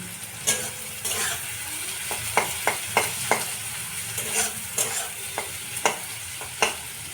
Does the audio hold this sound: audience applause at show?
no